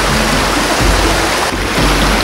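Broadband rushing of a river flowing toward a waterfall, steady and close, with a constant churning wash that holds throughout.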